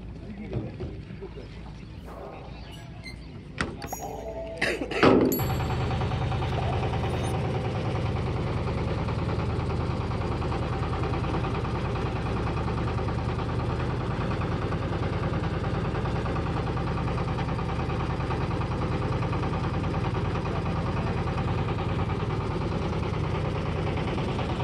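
A trawler boat's engine crossing a river in Shariatpur settles into a loud, steady, close droning rumble that runs unbroken after a few seconds of scattered clatter and voices at the start.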